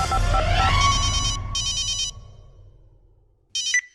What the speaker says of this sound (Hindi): राजा बाबू के पिताजी को फोन लगाया जाए गाजीपुर।